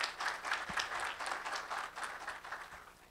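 Applause from an audience at an awards launch event in Belo Horizonte, greeting an announced guest: steady clapping from a crowd at moderate distance, sustained without a break for about three seconds.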